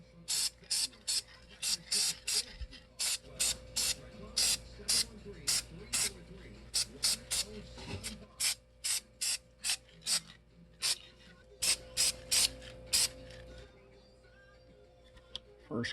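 Black spray paint applied to a Chevy A-body tachometer part, a series of short sharp aerosol bursts in quick irregular rhythm, close and crisp against a quiet background.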